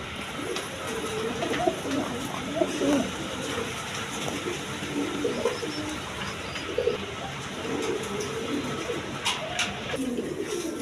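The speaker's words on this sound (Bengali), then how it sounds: "একদম কোয়ালিটি সম্পন্ন কবুতর একদম ফ্রেশের মধ্যে আছে" Several pigeons of mixed breeds, including coloured Raj Golla birds offered for sale, coo softly and repeatedly beneath a constant hiss of background noise.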